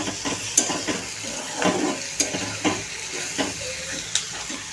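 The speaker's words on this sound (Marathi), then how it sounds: "आलं आणि लसूणही टाकून द्यायचं आहे आणि छानपैकी परतायचं आहे।" Onion sautéing in a pan with ginger and garlic for a methi matar malai gravy, a steady soft sizzle broken by repeated scrapes and clinks of a spoon stirring against the pan.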